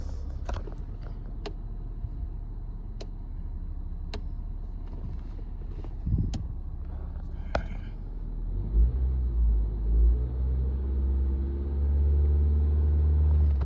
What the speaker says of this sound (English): let's give it a little gas